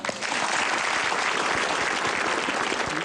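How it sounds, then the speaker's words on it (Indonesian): A studio audience at a televised talk show claps steadily, dense even applause that holds throughout with no voices. "Tepuk tangan."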